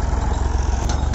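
A tractor engine rumbles steadily nearby while reversing with a rice harvesting machine, a low continuous idle-like drone with brief higher clanks near the end.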